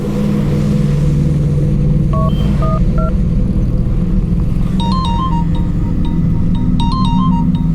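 A phone sounds in short electronic beeping bursts over a loud, constant low rumble, first a few single tones and then clusters of ringing chirps.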